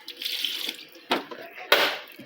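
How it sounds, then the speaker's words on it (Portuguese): Water runs into a Super Hippor 12kg washing machine during its self-cleaning cycle, a hissing gush that rises and falls in several surges at close range, with no voices heard. "toda a água que tá entrando dentro dela não fica dentro dela"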